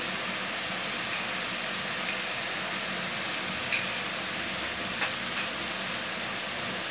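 Spice masala roasting in bubbling oil for prawn curry, an even, continuous hiss and sizzle with a couple of faint clicks, no voices.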